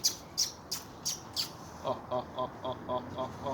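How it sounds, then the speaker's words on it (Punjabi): Pigeon sounds nearby at night roosting: a quick run of sharp chirps, then a steady series of short, repeated squawking calls at an even rhythm. "ਕਬੂਤਰੀ ਆ ਵੀ ਕਬੂਤਰੀ ਹੈ ਨਾ ਆਹ"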